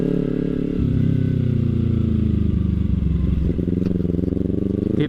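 A motorcycle ridden along a dark road in an area of burning natural gas, its engine droning steadily close by with a small change in pitch near the start and faint clatters toward the end, no speech.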